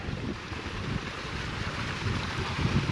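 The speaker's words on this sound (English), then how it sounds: "Now it's blowing a cold breeze." Cold breeze gusting across a mountainside in the Scottish Highlands, heard as a steady broadband wind rush with low buffeting rumble against the microphone, constant and fairly loud throughout.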